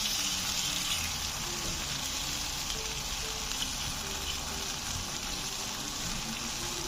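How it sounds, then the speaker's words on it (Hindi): Water poured into a pot of roasting chicken hisses and sizzles loudly and steadily, a continuous bright frying crackle with bubbling underneath. "इसके अंदर मैं ये थोड़ी पानी की डाल देता हूँ ताकि ये गल जाए अच्छी तरह"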